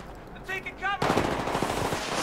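Gunfire in the video game Battlefield 3: a brief voice, then a sudden loud stretch of rapid automatic shots that continues steadily to the end.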